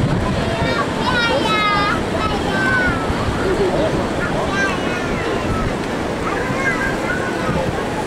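Ocean waves washing onto Praia do Cotovelo beach, a constant roar of surf with wind buffeting the microphone, while people talk over it throughout.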